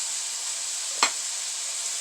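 Sausage sizzles in a pan, a steady fine crackling hiss with a single sharp pop or stir-clatter in the middle, close and continuous.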